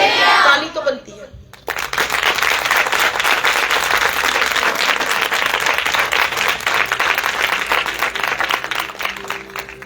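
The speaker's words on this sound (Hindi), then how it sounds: "ताली तो बनती है" A crowd at a church Christmas celebration breaks into loud, steady applause right after a short burst of voices at the start, the clapping continuing densely and evenly to the end.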